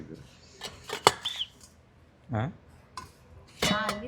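A metal idli cooker clanks and clinks a few times, with scraping and a couple of brief ringing knocks between quiet gaps.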